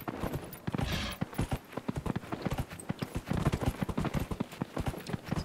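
Steady, rhythmic hoofbeats of a ridden horse in Dragon Age Inquisition, close and prominent, continuing for several seconds without speech.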